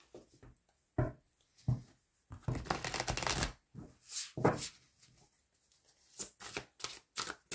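Oracle cards being shuffled by hand for a card reading: several close, papery riffles and slides in irregular bursts separated by short quiet gaps, with no talk.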